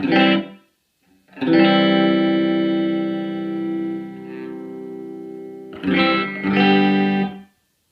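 Distorted electric guitar chords ring out through a ZT Lunchbox amp with its ambiance control turned up, giving a full, spacious, reverb-like sustain without reverb, a long held chord followed by short strummed bursts.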